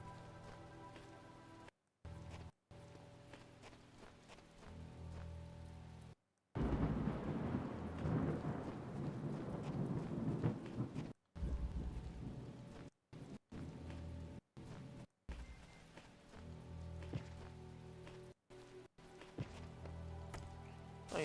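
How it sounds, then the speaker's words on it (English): Rain and rolling thunder from the video game The Talos Principle, a steady wash of rainfall with a loud, deep thunder rumble swelling early on, broken by several short silent gaps. "there's more rain"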